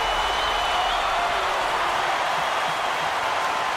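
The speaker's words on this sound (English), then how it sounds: "Listen to the crowd noise." Arena crowd in the College Basketball 2K8 video game, a dense continuous roar of cheering and chatter with no commentary over it, steady and loud throughout.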